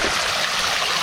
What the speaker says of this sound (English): this is the creek that we're set up along